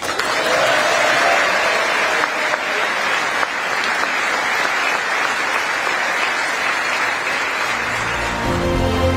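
Sustained applause fills the US Congress chamber during Prime Minister Modi's address, a steady dense wash of many hands clapping at a distance, continuing evenly for several seconds and thinning slightly at the end.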